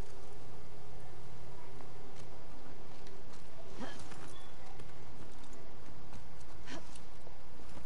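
Horse hooves clip-clopping in the video game The Last of Us Part II, a faint run of hoofbeats under a steady droning bed, with a couple of sharper thuds standing out.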